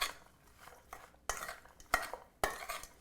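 A vegan Caesar salad dressing, garlicky, oily and cheesy, is stirred briskly in a bowl, its soft scraping broken by three sharp utensil knocks against the side, close and clear, with no voices.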